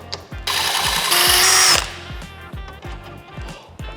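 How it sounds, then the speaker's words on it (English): A hand drill drilling metal on a Yamaha XSR900 headlight conversion whirs in a loud, high burst for over a second, then winds down, with rhythmic mechanical knocking ticking steadily throughout. "I'm just gonna try drilling it."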